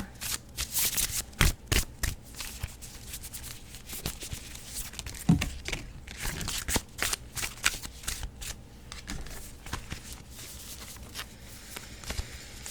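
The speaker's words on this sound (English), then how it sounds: "we're going to give her a good shuffle." A tarot deck is shuffled repeatedly, sharp riffling bursts and soft flicks in quick irregular rhythm, close up with no talking.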